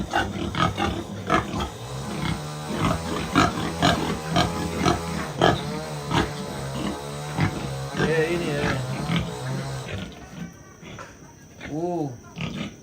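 Several pigs held for a Toraja funeral at a tongkonan grunt and squeal loudly and continuously, with people talking nearby and a single louder squeal near the end.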